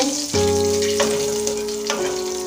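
Dry red chillies, a piece of cinnamon and cumin seeds hit hot oil in a Bengali kitchen, bursting into a loud, steady sizzle with a few sharper crackles and spits throughout, close up and without talk.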